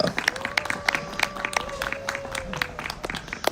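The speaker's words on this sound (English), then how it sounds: "And big applause for the 19 years of Vrinda Kunja tours of all India." An audience claps in a ragged, sparse patter of individual hands, with a sustained tone and crowd murmur running underneath and some voices heard alongside the clapping.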